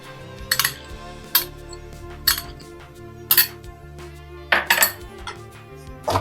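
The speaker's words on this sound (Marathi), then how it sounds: "आणि तो चांगला मिक्स करून घेऊ." Utensil clinking against a pan as mango pulp is stirred into sheera, a semolina dessert, in sharp separate metallic taps spaced through the stir with soft scraping between, close and without talk.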